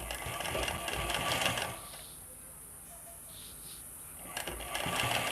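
A sewing machine stitches elastic onto fabric, a close mechanical whirring run for about a second and a half, a pause of quieter handling, then the motor starting again near the end.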